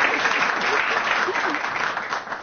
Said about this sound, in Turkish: bütün sınıf arkadaşların şimdi doğrusunu öğrendiğin için seni alkışlayacak